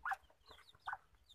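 Laying hens and a rooster kept in a backyard coop, giving a few short, soft clucks at close range over quiet background.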